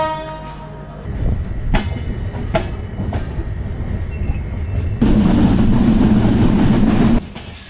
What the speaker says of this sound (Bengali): ফুলবাড়ি স্টেশনে ছোট্ট বিরতি শেষে আমাদের ট্রেন চলবে পরবর্তী গন্তব্য স্টেশন